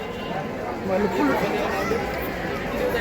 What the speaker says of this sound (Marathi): आणि गर्दी भाऊ, गर्दी लय गर्दी आहे.